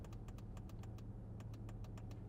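Crisp, close clicks of switch gear being pressed in a 2025 Porsche Cayenne GTS, a quick cluster followed by a pause and another run, quiet against a low steady hum.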